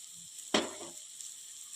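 Sudden burst of sizzling as bitter gourd hits hot oil for sautéing, one sharp hiss that fades quickly into a quiet background.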